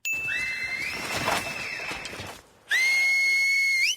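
Two-tone whistle signals with rising glides from a scene in The Last of Us TV series sound near and loud, broken by a brief pause, then a sustained shrill whistle returns.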